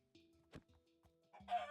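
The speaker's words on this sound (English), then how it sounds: "That chicken's stuck in the water." Clucks and short squawks from a chicken in a video game, a few brief calls spread across the moment, moderately loud with a louder burst at the end.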